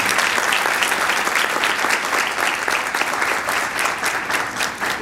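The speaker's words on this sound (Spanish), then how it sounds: "Por favor, un fuerte aplauso para el doctor." A conference audience breaks into dense, sustained applause for a doctor about to lecture, steady clapping from many hands filling the room without pause.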